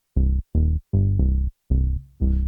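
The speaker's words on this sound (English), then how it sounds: "I've added this bass line using the Tal Bassline 101" A house bass line from a Tal Bassline 101 synth, an SH-101 clone, plays alone as five short, punchy, rhythmic bass notes with clean gaps between them.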